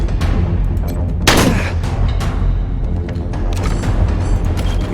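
Gunfire in the post-apocalyptic video game Wasteland 3, a burst of sharp loud shots with one especially heavy blast in the middle, over a steady low game rumble and no talking.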